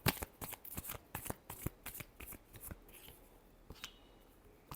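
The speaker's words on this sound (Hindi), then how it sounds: "last shuffle" A deck of tarot cards shuffled by hand, a quick series of crisp riffling flutters close up, quieting into a few softer card flicks.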